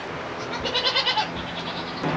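Goats bleating on a homestead, a run of several wavering calls close by, moderately loud against a faint outdoor background, with no talk over them.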